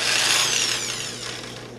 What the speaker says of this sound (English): These seed pods, you're going to drill a little hole right at the base of all these.